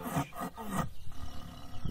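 A tiger's low, rasping roar comes in a few rough bursts in a children's alphabet phonics song, loud and close, then trails off into quieter rumbling, with no talk.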